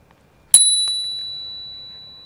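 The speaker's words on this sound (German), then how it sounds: "Und zwar habe ich eine neue Klingel." A new bicycle bell mounted on an e-bike gives one bright clear ding, followed by a softer second tap, then a long ringing tone that fades slowly, close and alone.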